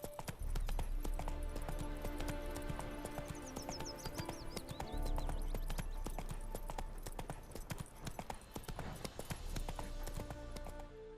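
Roach, a horse in The Witcher 3: Hearts of Stone, gallops with steady rapid clip-clop hoofbeats, loud and close, over a dense bed of game music and ambience, with a brief whinny-like tone near the middle.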